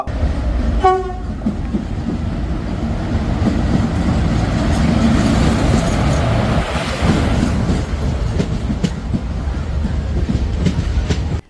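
A passenger train runs along the rails, with a short horn blast near the start over a steady, loud rolling rumble that continues to the end. No one speaks.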